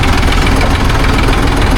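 The engine of a newly delivered tractor runs close by with a loud, steady, rough rumble and no pause.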